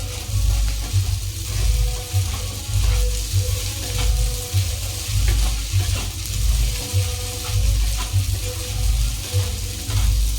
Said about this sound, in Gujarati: હવે બધા મસાલા હલાવી દઈએ.